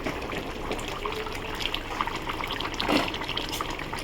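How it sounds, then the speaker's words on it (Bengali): Fish curry with potato and tilapia bubbles in a pan on the stove, a steady close wash of simmering and bubbling with small pops scattered throughout. "আমার একটা মাছের ঝোলটা ফুটে গেছে।"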